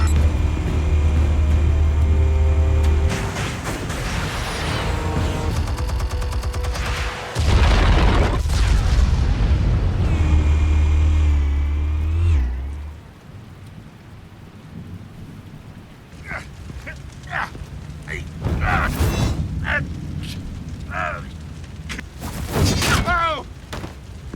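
Explosion in Batman - The Telltale Series, a heavy rumbling blast with deep roaring bursts that swell and drop over several seconds, followed by quieter debris and scattered sharp sounds, with voices speaking in between.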